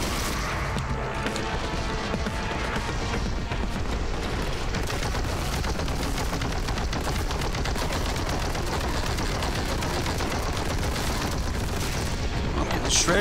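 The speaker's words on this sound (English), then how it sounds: "That's probably my best grenade yet." Explosive grenade blast and rapid bolter gunfire from the Warhammer 40,000: Boltgun video game, a dense, continuous barrage of loud shots and booms filling the whole stretch with barely a pause.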